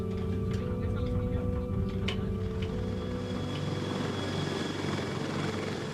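A CH-53K heavy-lift helicopter flies with a constant, loud rotor and engine drone that fills the whole stretch, while a voice talks over it.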